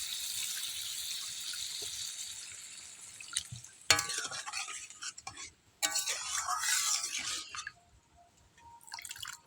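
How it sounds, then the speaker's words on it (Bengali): Water is poured into a pan of cooked-down masala for a Bengali fish curry, with quiet dripping and a gurgling splash that starts abruptly and returns a little later before stopping, close and fairly soft. "এবারে দিয়ে দেবো জল, পরিমাণ মতন দেবো"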